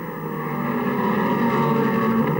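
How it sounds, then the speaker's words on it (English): A Traco V8 and a Repco V8 sports racing car at speed on a circuit in 1968, the engines' loud sustained roar holding a steady pitch close by, with no voices. "Allen in the white car, number 3, the Traco V8, showing the way now to the Repco engine car of Ian Cook."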